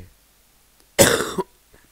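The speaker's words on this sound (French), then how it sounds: "Vraiment désolé si je tousse." A single harsh cough, close and loud, bursting out of near silence and ending quickly.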